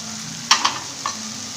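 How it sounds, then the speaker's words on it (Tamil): Spices and curry leaves sautéing in a pan for a leftover-chapati dish, with a soft steady sizzle and a few brief stirring scrapes close by. "கொஞ்ச நேரம் எல்லாமே நல்லா வதங்கட்டும்"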